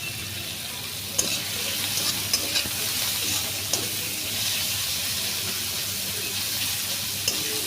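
Mushroom curry frying in a pan after salt is added, giving a steady close sizzle and hiss with a few light clicks of a stirring utensil throughout.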